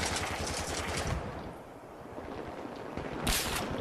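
Dense, continuous Battlefield 3 gunfire and battle noise, a steady wash of distant shooting with a louder burst near the end, heard alone without talk.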